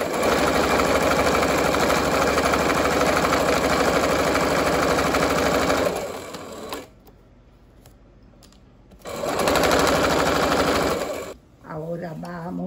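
A sewing machine stitches a pair of shorts, running in a fast, steady buzz for about six seconds, stopping, then running again in a shorter burst, close and loud.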